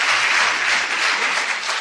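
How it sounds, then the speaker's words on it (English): Audience at a Montana Republican primary debate breaks into dense, continuous applause, steady and fairly loud throughout with no voices on top. "Give some applause if you want to hear more."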